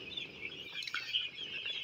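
Eight-day-old broiler chicks from the New Hope hatchery, housed in a winter shed and recovering from colds, give faint, steady peeping and soft clucks from a distance, continuous and overlapping, with no voices.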